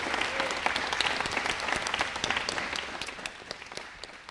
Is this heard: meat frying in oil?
no